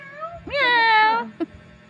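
A pet cat gives one drawn-out, loud meow close by, rising then trailing off, followed by a short chirp amid a quiet household background.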